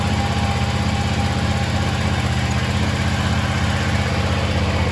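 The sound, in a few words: John Deere X590 garden tractor engine running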